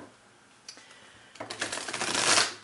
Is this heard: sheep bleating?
no